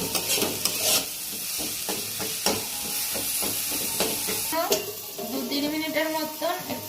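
Vegetables fry and are stirred in a pan for fried rice, a steady close sizzle under rhythmic scraping and clattering strokes, with a hissing surge of steam after the midpoint.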